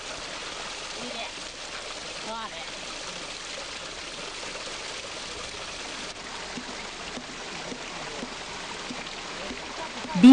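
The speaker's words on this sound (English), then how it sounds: "Washing and cleaning the thread is done in a running stream." Water of a running stream where thread is washed, a steady broadband rushing and trickling wash that stays even throughout, with a faint voice at times.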